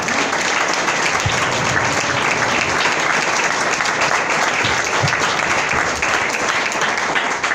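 A church congregation claps loudly and steadily in praise, a dense wash of applause that fills the room for several seconds without letting up.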